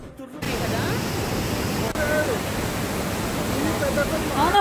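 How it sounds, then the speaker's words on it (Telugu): Water rushes continuously at a stream or waterfall near a temple in Penna Ahobilam, a broad steady roar heard close up with voices faintly beneath it. "ఇక్కడికి వచ్చాక ఎంత పీస్ఫుల్ గా ఉందంటే ఆ వాటర్ సౌండ్స్ కి"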